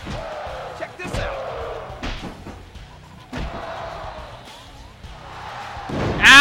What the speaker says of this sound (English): Ow, I got slammed by the fattest man in the world!